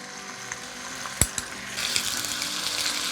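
Meat fries in olive oil in a cast iron pan with a steady close sizzle, a couple of sharp clicks from a utensil, and the hiss swelling louder partway through.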